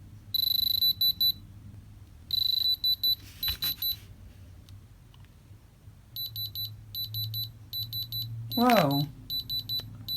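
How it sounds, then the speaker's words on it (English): An electronic diamond tester beeps in rapid high-pitched bursts as its needle touches stones from a jewelry haul, repeated in clusters, close and loud, with a brief spoken exclamation. "Do you see where it's making that beep and going in the red section?"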